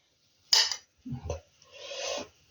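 Stewed hake with vegetables lifted from an oven dish onto a plate: a bright clink of a utensil on the dish, then a soft thud of fish landing, and a short scraping slide, close and fairly quiet.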